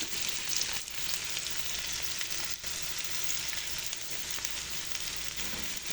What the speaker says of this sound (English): I like to saute up the onions